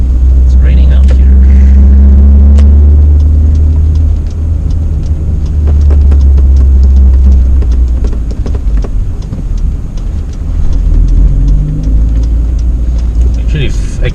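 Car interior on a rainy day, with a steady loud low engine and road rumble, scattered patter of rain on the body and occasional speech over the drive.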